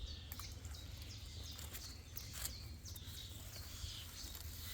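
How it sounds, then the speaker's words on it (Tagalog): Birds chirping with short high calls scattered over a constant low hum, fairly faint and distant. "Naririnig niyo yung mga ibon namin"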